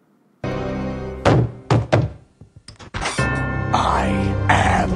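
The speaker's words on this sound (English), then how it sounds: "So as Homer slams the door in Death's face" A cartoon door slams shut with a loud, close thunk, followed by a few knocks and thuds, amid music and voices.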